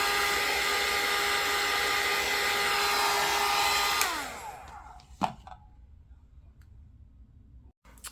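Heat gun blowing to dry paint splatter on a Halloween pumpkin decoupage craft, a loud steady whining hiss for about four seconds, then it winds down and clicks off, leaving quiet handling noises.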